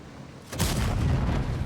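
A Foch B tank cannon fires once in a video game, a sudden loud boom followed by a heavy, rolling rumble that lingers to the end.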